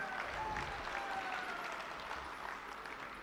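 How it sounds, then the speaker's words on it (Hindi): Stage-show audience applauding children who have just performed, a steady wash of clapping that stays faint and distant throughout, with no clear voices over it. "इनके इसी बहादुरी के लिए एक बार जोरदार तालियां हो जाएं"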